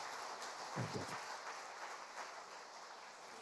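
A church congregation applauds the elder, a soft, steady wash of clapping heard from a distance, with no voice standing out over it.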